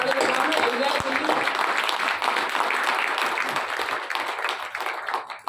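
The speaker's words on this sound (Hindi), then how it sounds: "एक बार दोनों हाथ खड़े कर दो, ऐसे ताली बजाना, हिल जाए दिल्ली" A crowd claps with both hands raised at a stage event in Delhi, a dense continuous wash of applause for several seconds, with voices mixed in.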